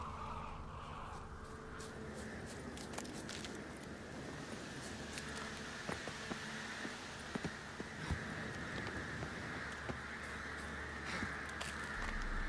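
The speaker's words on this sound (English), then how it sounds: "All I gotta do is follow the cawing." Crows cawing in the video game The Witcher 3, scattered harsh calls heard faintly over a constant windy outdoor ambience, with occasional sharp clicks and no talking.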